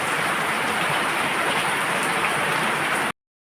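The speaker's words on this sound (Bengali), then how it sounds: "প্রচণ্ড বৃষ্টি ফাটাফাটি বৃষ্টি হচ্ছে" Heavy rain pours steadily and loudly on a home in a downpour, a dense unbroken hiss and patter with no voices, cutting off abruptly near the end.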